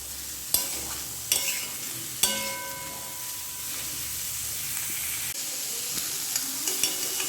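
Green chilies stir-fried with cumin powder in a pan: a continuous close sizzle broken by several sharp metallic clangs and scrapes of a spatula against the pan.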